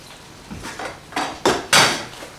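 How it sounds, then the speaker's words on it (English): A spoon stirring a pot of food with dried bay leaves, producing a series of five or six clinks and scrapes against the pot, growing louder toward the end, with no voices. "Just give that a stir around."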